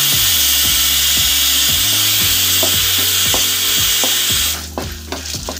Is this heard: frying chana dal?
yes